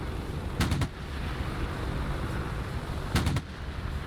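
Two short bursts of rapid gunfire from an attack helicopter strike targets in the DCS combat flight simulator, each a quick cluster of shots over a constant rotor and engine drone.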